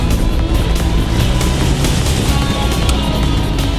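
A SsangYong Kyron jeep grinds along an off-road track, its engine a steady loud drone with rough rumbling underneath and no voices.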